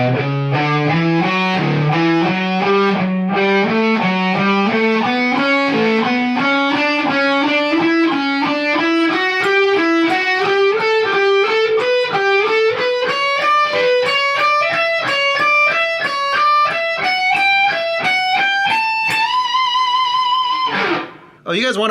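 Electric guitar with distortion plays a slow alternate-picked lick, a steady stream of evenly spaced notes climbing gradually higher in pitch, loud and alone, ending in a brief trill before cutting off.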